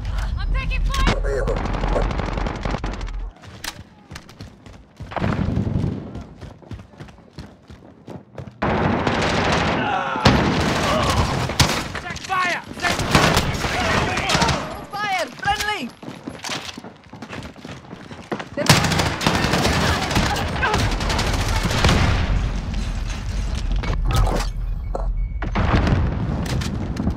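Gunfire in the Xbox One multiplayer shooter Call of Duty Modern Warfare: loud, dense machine-gun bursts and heavy booming shots in rapid clusters over nearly half a minute, with a player's voice now and then.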